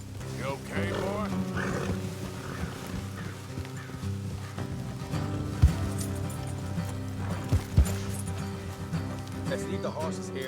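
Horses in the Red Dead Redemption 2 video game clop along at an uneven rhythm with occasional snorts, set under a musical score and someone speaking.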